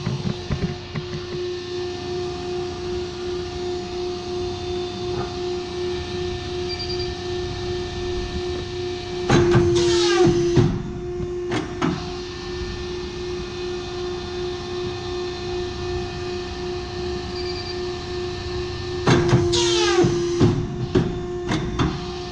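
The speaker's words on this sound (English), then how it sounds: "Here we have a Pro Cut Model 320 with micro cut on it." Pro-Cut Model 320 hydraulic programmable 32-inch paper cutter with micro cut: a steady motor hum runs throughout, broken by two loud clattering knife cycles about ten seconds apart.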